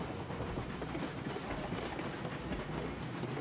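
A pipe-hauling freight train runs in the railroad game Railroads Online, giving a steady, loud, close rumble with wheel clatter that continues unbroken and has no voice over it.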